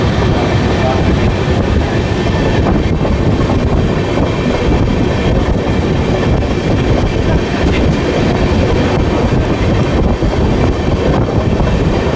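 Amrit Bharat Express on the Brahmapur to Udhna run, a loud, steady rumble of wheels on rails with faint rhythmic clatter, heard from aboard the moving train without speech.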